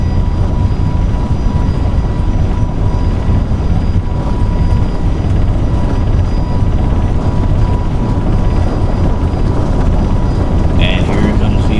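Airliner takeoff roll in Microsoft Flight Simulator 2024, a loud steady roar of jet engines and runway rumble filling the whole stretch, with no break in the dense noise.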